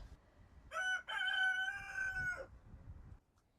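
A rooster crows once in a chicken coop in winter, a loud drawn-out cock-a-doodle-doo with a brief break near the start, then quiet farmyard background.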